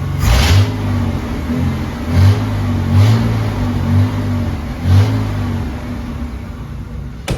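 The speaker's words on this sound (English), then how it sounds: "I'll give you guys a couple revs." A 1992 Ford F150 pickup truck engine with a cold air intake idles with a deep rumble, then revs up in several short bursts, loud and close.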